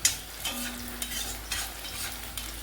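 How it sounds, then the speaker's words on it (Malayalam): Shallots fry with ginger and curry leaves in hot oil, a close, steady sizzle broken by repeated scraping stir strokes every half second or so, with no voices. "ചെറിയ ഉള്ളി മൂത്ത് വന്നാൽ അതിലേക്ക് നമ്മൾ കുറച്ച് ഇഞ്ചി കറിവേപ്പില ഇടുക."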